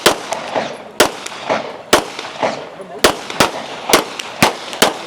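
Pistol shots ring out at a practical shooting competition stage, about a dozen sharp, loud reports fired in an irregular rapid string with short pauses between bursts.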